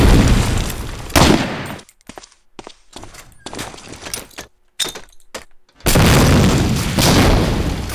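A grenade detonates in a video game, with loud booming bursts and gunfire-like cracks around brief silent gaps, then a sustained roar of blasts closing out the stretch.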